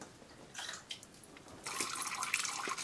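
Water pours into a cup in short trickles, then a fuller, steadier splashing stream; quiet and close, with no talking.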